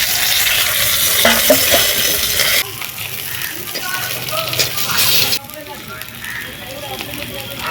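Steady broadband hiss of fish sizzling in hot oil, loud and close, with stirring scrapes and brief shifts in intensity.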